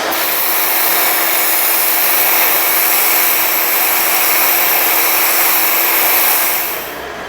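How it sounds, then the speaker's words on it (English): A vacuum cleaner runs steadily and loudly alongside sandblasting bodywork on a truck, giving a dense, constant whoosh with a fixed whine that tapers off near the end. "So let me turn back on the vacuum cleaner"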